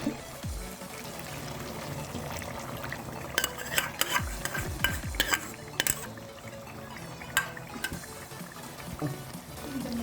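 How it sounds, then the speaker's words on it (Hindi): A spoon stirs yogurt into chicken karahi in a pan, with soft scraping and clinks of utensil against metal over a low cooking background, close and fairly quiet. "मिक्स कर लेंगे इसको"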